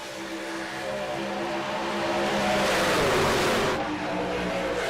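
Race trucks in a sim racing game accelerating together at a green-flag restart on a superspeedway, a loud, dense engine roar that swells and holds steady.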